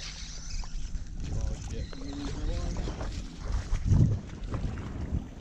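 Gusty wind blows across a tidal river during striped bass fishing from kayaks, a rough buffeting rush against the microphone with a few faint knocks and a brief louder gust, with a voice faintly audible underneath.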